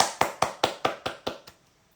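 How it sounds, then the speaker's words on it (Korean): A single person clapping hands about seven times in a steady rhythm, close and crisp, during a livestream, with no other sound; the claps fade out after about one and a half seconds. "자, 박수."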